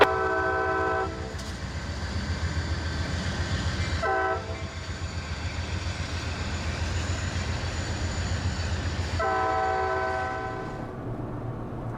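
Coal train led by locomotive 3044 rolls past southbound near Sailor Junction, a steady loud rumble of wagons underneath three horn blasts: a short one at the start, another brief one, then a longer blast near the end.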